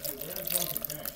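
Excess water drains and splashes out of a soaked Jiffy peat pellet seed-starting greenhouse tray, a steady close trickle and pour with no pause.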